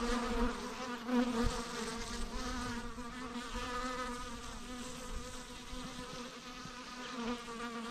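Honeybees buzz in a steady, dense drone that holds at an even level throughout, close by and without any talk.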